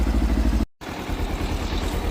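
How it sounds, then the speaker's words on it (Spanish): A warmed-up Kawasaki Versys X 300 motorcycle idles with a steady, close, low pulsing putter. It cuts out for a split second, then resumes slightly rougher, with no talk. "Aquí la moto ya está en el ralentí de funcionamiento, ya tiene buena temperatura"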